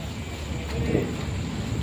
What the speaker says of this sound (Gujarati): જોરદાર વીજળી કડાકા ભડાકા હરુડાટ સાથે ગાજવી સાથે